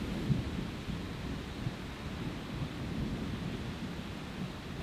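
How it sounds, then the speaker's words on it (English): A faint, low rumble of distant thunder rolls on under a steady wash of wind and outdoor noise. "I'm pretty sure I just heard some thunder"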